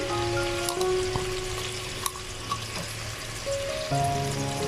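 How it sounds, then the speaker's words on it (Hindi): Sliced onion drops into hot oil for a curry pakora dish and fries with a close, continuous sizzle and crackle, while a low steady tone and a few clinks sound from the kitchen behind it. "और ऑयल गर्म हो चुका है तो अब ये प्याज मैं इसमें डाल दूँगी"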